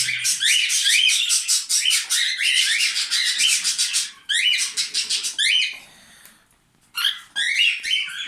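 Budgerigar parrots chirping and warbling up close, a dense, continuous stream of quick high chatter and squawks that drops away briefly near the end before resuming.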